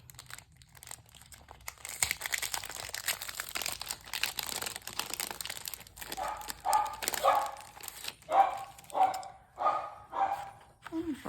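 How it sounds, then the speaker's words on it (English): Pet dogs bark indoors in a home craft room, a run of loud, close barks and yips that starts partway through after paper crinkles and rustles, while a person talks in the background. "And right on cue, my dogs go crazy."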